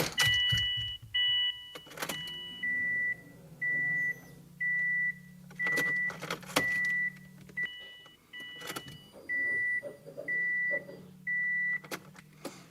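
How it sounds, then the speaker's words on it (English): Repeated electric whirring pulses from a Subaru WRX's fuel pump priming, several short bursts in a row, with clicks and hissing air bleeding out between them. "That's why we're priming it so many times, just to get the pump flowing"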